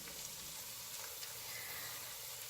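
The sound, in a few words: tomato paste sizzling while being stirred in a pan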